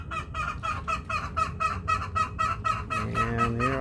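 A goose near flooded chicken pens gives a steady series of about a dozen loud, close honks in a regular rhythm, with a lower-pitched call joining near the end.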